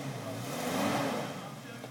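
An off-road vehicle engine revs as the driver presses the gas, a steady loud drone swelling toward the middle and easing off, with people talking over it.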